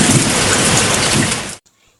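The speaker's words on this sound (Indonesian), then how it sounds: "mendengarkan rintikan air saat hujan turun." Heavy rain pours in a dense, loud wash with a low thunder rumble mixed in, then cuts off abruptly into near silence.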